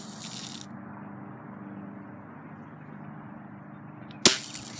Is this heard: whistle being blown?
no